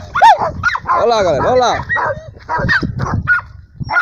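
Dogs bark and yip repeatedly in an outdoor setting during the release of a tegu lizard, with someone talking excitedly over the barking.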